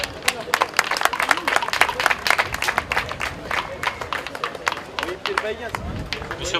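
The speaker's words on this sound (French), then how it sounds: "Applaudissements s'il vous plaît." An audience applauds at an Eid ul-Fitr tournament prize ceremony, with dense, steady clapping from a crowd running throughout at close range.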